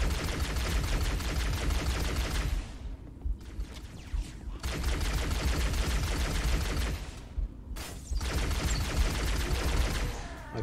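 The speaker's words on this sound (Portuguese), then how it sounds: "Os tiros teleguiados vindo em mim aí." Dense, rapid gunfire from Halo: Combat Evolved rattles almost nonstop, broken by two short pauses, loud and close.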